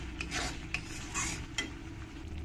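Spice masala stirred and fried in a pan over medium heat, with a few soft scraping strokes of the spoon against the pan over a quiet, steady sizzle, heard close and alone.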